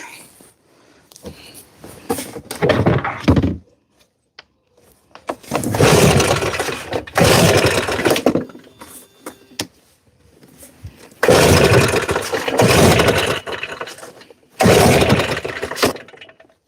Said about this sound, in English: I'm using my backpack blower, which is a still 4-stroke.